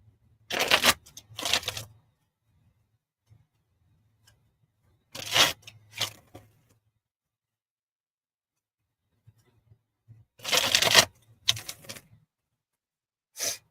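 Tarot cards are shuffled by hand in three short, crisp bursts of riffling and flicking, separated by long quiet gaps, close and fairly soft with no talking.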